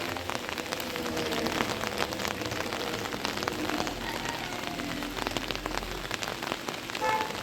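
Medium rain falls steadily on an early rainy morning around six o'clock, a constant dense hiss of drops on surfaces with no pauses and no other sounds.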